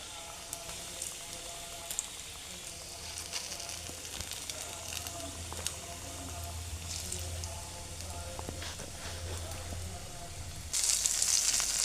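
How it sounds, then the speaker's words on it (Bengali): Coated chicken pieces fry in hot oil with a steady, crackling sizzle and scattered pops, rising to a louder, hissier burst near the end. "এরকম সবগুলোকে আমি ঝেড়ে ঝেড়ে তেলের মধ্যে দিয়ে দেব"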